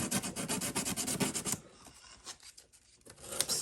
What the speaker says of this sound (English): now with our sandpaper, since we didn't really break the surface too much, let's go in here and let's go ahead and give this thing some